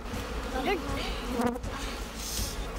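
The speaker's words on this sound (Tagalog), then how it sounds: "Hanggang ang mga bubuyog tuluyan ng nagpulasan." A dense, steady buzz of many bees swarming close by, continuous throughout with no talking.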